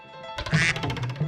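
A cartoon duck gives a short burst of nasal quacks, close and clear, over a faint background tone.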